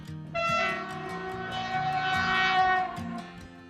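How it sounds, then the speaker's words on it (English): A train to Oslo, Norway, emerges from a tunnel, with sustained tonal, horn-like whining over a low rumble, swelling slightly before easing off. "The train to Oslo should come out of that tunnel right there any minute now."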